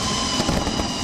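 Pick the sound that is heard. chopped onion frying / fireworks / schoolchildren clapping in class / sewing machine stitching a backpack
fireworks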